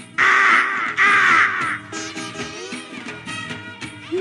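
A voice imitates a crow, giving two loud harsh caws followed by a string of shorter, rougher cawing sounds.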